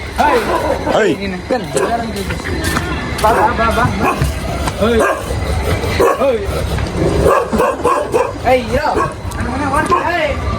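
A dog yips, whimpers and barks in short, irregular bursts close by on a crowded street during the Bangalore Karaga festival, mixed with people talking and background crowd chatter.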